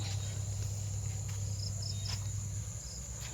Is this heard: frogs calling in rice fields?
yes